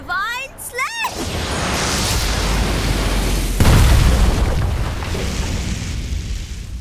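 A Divine Slash sword skill from an anime-style battle hits with a heavy boom and a rushing, explosive roar that swells and then sustains. A second blast lands midway, and a voice speaks briefly at the start.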